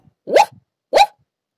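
Two short, sharp dog barks about half a second apart, close and clear against silence, performed as a sound effect in an animated children's story reading.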